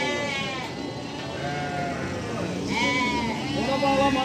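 Lambs at a sheep market bleat repeatedly, overlapping wavering cries from several animals over busy crowd murmur and background noise.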